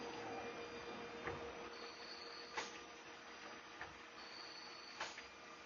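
A CNC lathe threads a rifle chamber on an Aero Solus action, a steady machine hum with a few faint clicks and ticks as the cut runs, with no voices.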